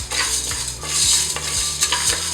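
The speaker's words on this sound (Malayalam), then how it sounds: "ജസ്റ്റ് ഈ വൻപയർ കുക്കറിലേക്കൊന്ന് ഇട്ടിട്ട് ഒന്ന് നന്നായിട്ടൊന്ന് വറുത്ത് കൊടുക്കുന്നു." Cowpeas (vanpayar) dry-roasting in a pressure cooker without oil, with repeated scraping and stirring knocks and light rattling of the dry beans against the metal, close and steady.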